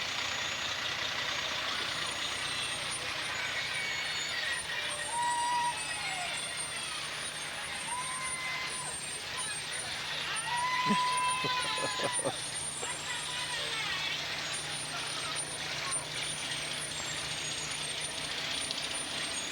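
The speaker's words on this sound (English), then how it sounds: "Kids of all ages love fire trucks and watch the fire departments go by." Fire trucks roll past in the 2003 Wadsworth Blue Tip parade, with a steady outdoor rumble and brief horn or siren tones sounding mid-passage, while people talk nearby.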